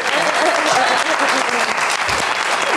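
A studio audience applauds guests arriving on a talk show, a dense, steady wash of clapping that holds evenly throughout, with some voices mixed in.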